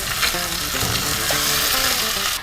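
Asparagus drops into a hot frying pan and sizzles loudly and steadily, a dense crackling fry with light stirring noises throughout, no voices.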